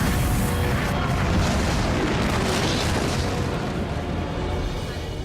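Spaceship weapons fire at an enemy ship in a science-fiction space battle, a dense, loud and continuous barrage of booming blasts and rumbling explosions that keeps going throughout with no clear break.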